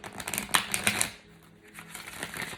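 Tarot cards being drawn and handled from a deck, a quick run of crisp flicks and slaps close by with some papery shuffling, then a softer stretch of light rustling.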